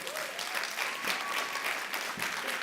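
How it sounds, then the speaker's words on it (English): Sustained applause from an audience at a university food-access event, a steady dense wash of clapping with faint voices and whoops mixed in throughout. "So a bigger round of applause for them again"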